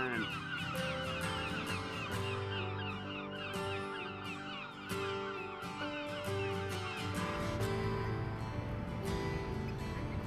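A dense chorus of gulls calls and squawks continuously at West Mersea, loud and close, with overlapping cries throughout.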